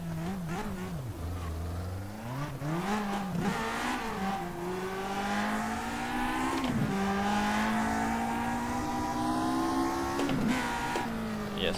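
Race car engine from the rFactor2 driving simulator, driven with a G27 wheel, shifter and pedals, revving loud and continuous, its pitch sweeping up and down through gear changes along a straight.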